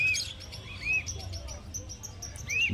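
Flocks of lovebirds at a bird market give short, bright chirps and tweets, several calls scattered across a steady low crowd hum and background murmur.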